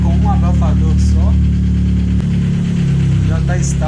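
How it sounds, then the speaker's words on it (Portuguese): A car engine idles with a newly rebuilt exhaust running a single muffler, a loud, steady low drone close by, while someone talks over it throughout. "Está com escapamento novo que a gente refez todo, por isso está mais barulhento."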